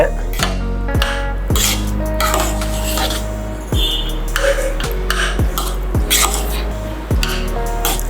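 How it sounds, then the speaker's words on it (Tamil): Jaggery syrup being filtered and mixed into sweet pongal in a pot, with a series of sharp metallic clinks and knocks from a spoon against the vessel at a loose, regular pace, close and fairly loud, with no speech. "ரெடி பண்ண பாகை அப்படியே ஃபில்டர் பண்ணுறோம். இதை அப்படியே மிக்ஸ் பண்ணுங்க."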